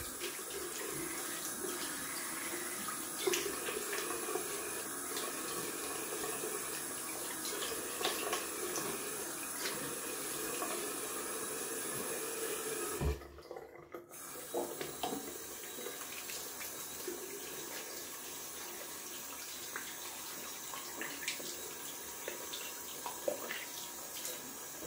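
Tap water runs steadily from a faucet into a sink while someone rinses off after a wet shave, a continuous close splashing stream with a brief interruption midway before it resumes.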